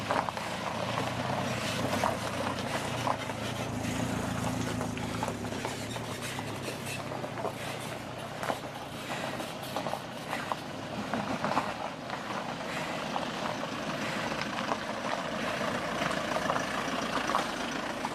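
Vehicles drive along a winding rural dirt track, with a steady engine drone and rattling mechanical noise heard up close throughout.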